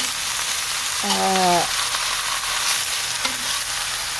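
Chopped bottle gourd with shallots, garlic, chili and oil is stir-fried in a pan. A loud, continuous sizzle fills the clip, with a brief tonal scrape or squeak about a second in.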